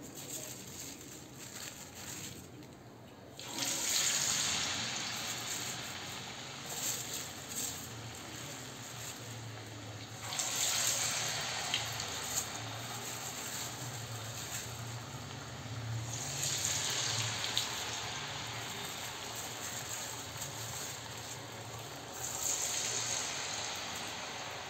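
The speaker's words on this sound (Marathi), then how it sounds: "पाण्याचा हात लावून आपण हे वडे यामध्ये तळून घेऊया." Bottle gourd vadas are slid into hot oil for deep-frying, raising a steady hiss and crackle of bubbling oil. The sizzle swells sharply a few times as more batter pieces go in, then settles to a continuous close sputter with no voices.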